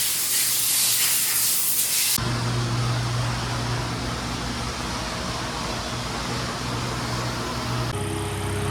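An air compressor runs in a car shop, giving a broad steady hiss. A louder burst of spray-like air comes first, then a constant droning hum with a low tonal note that continues to the end.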